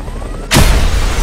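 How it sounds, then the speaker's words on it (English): A helicopter spinning out of control in the video game Just Cause 2 ends in a sudden loud booming crash, after a thin whining engine tone, leaving a heavy rumbling roar that carries on to the end. "And the helicopter goes out of control."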